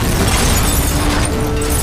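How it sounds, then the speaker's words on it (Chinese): A house explodes in a fantasy film, heard as a loud, dense, unbroken roar of blast and debris that fills the whole moment without letup. "房子直接发生了爆炸"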